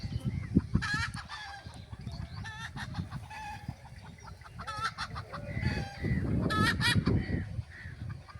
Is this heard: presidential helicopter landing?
no